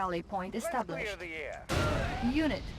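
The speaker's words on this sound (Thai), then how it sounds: "เดี๋ยวผมจะระเบิดฐานนี้นะ" Someone talks, then a sudden loud explosion erupts as a base is blown up in the strategy game Red Alert 2: Yuri's Revenge, its rumbling blast lingering under further speech.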